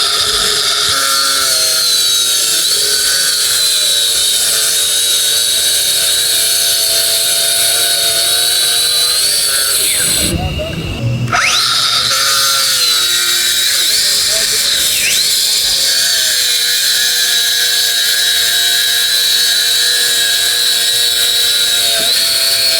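A new DeWALT flexible grinder cutting with its blade fully embedded gives a loud, steady high-pitched whine that briefly drops out and restarts partway through, with people talking over it.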